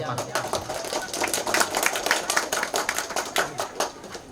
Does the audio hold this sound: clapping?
yes